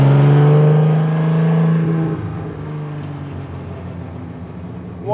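A valuable classic racing car accelerates on track, its engine loud and close with a rising rasping note that drops off as the driver lifts, then settles into a lower rumble.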